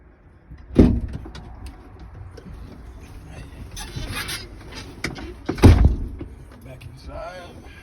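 Two solid thumps of a truck cab door shutting, one early and one later, as the driver climbs out and back in, with quieter rustling, footsteps and a faint outdoor background between them.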